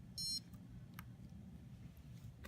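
A single short, high electronic beep sounds from a sunscreen reminder timer as its push button is pressed to reset it, followed by faint clicks over a low background hum.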